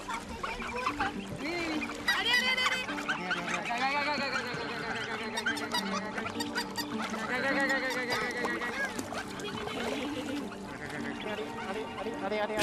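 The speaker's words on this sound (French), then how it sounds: "En France, les oies de Christian ont tout juste 3 semaines" Three-week-old goslings on a farm in France keep up a dense, continuous chorus of honks and peeps, many overlapping calls close by.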